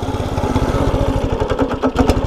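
A small pit bike engine idles close by, with a fast, even chugging pulse that stays steady and loud throughout.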